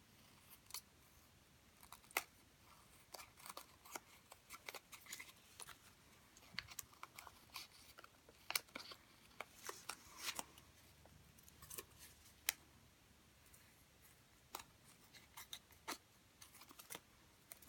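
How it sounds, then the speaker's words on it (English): Snips cutting small excess pieces of designer paper for a scrapbook sunburst, a run of crisp, irregular snipping clicks, close but quiet, with no talk. "And then just using your snips and cut all these excess little pieces off."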